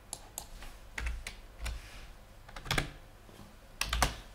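Quiet, close clicks of a computer keyboard, typed in short irregular bursts with pauses between keystroke clusters, no talking.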